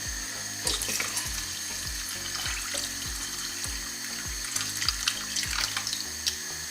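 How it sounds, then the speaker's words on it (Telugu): Tap water runs steadily into a pot with salt, filling it to cook edamame beans, a continuous close splashing stream with small gurgles, without talk. "సో వాటర్ అయితే కొంచెం ఫుల్గా వచ్చేటట్టు పోసుకుంటాను."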